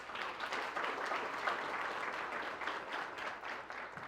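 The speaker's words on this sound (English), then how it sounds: "I want all of you to give them an applause." Audience at a conference on sustainability and ESG gives a round of applause, a soft, even wash of many hands clapping heard from a distance without pause.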